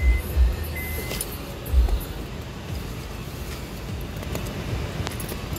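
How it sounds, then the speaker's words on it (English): A 2010 Honda Odyssey engine idles after starting, a steady close low rumble with a couple of heavier thumps early on. "the final step you're gonna wanna do is start the vehicle up"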